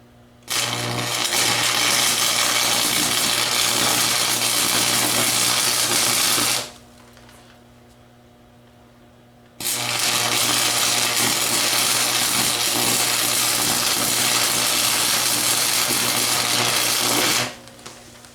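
Stick welding with a flux-coated rod during a deck repair: two long, steady crackling arc bursts of about six and eight seconds, split by a quiet pause, with a constant low hum underneath.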